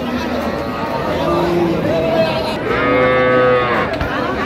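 A cow moos in a long, drawn-out low call amid a noisy outdoor crowd at a cattle market, with people talking in the background.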